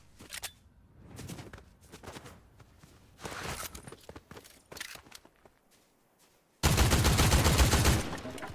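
Gunfire in a battle-pass shooter video game: several scattered bursts of shots early on, then a loud sustained volley near the end, set against game ambience with no talk.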